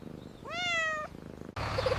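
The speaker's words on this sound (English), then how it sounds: "Hello, little kitten." Small kitten giving one clear, drawn-out meow near the start, followed by a soft purring rumble and a brief rustle, close and quiet with no talking.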